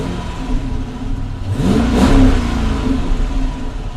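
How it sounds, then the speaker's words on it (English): A Dodge Charger or Magnum engine cranks and catches, then revs up in a rising whine before settling to a steady, close idle. "if we actually start up the car, look at that"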